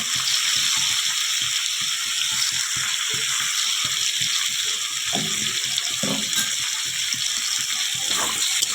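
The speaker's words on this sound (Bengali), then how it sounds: "তো এখন আমি আদা বাটা দেব" Ginger paste added to a hot frying pan of spiced fish-head, pumpkin and potato mix, giving a loud, dense, steady hiss and sizzle with faint spoon knocks underneath; close, no voices.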